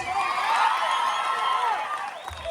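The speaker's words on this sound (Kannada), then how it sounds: "ಜೋರ ಚಪ್ಪಾಳೆ ಬರಲಿ ಓನ್ಲಿ ಬಾಯ್ಸ್" A crowd at a village stage music program for a temple festival claps and cheers loudly, a dense wash of applause and shouts that swells and then eases off near the end.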